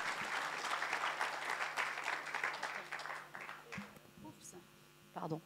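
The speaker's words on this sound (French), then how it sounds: "On peut encore applaudir parce que c'est des marches longues" Audience applauding in a French live event hall, a dense clatter of many hands that carries for several seconds, thins and fades toward the end, with a brief burst at the very close and some voices mixed in.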